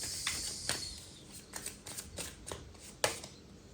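Tarot cards being drawn and handled from a deck, giving a string of soft, papery flicks and snaps at an irregular pace, close and fairly quiet with no talking.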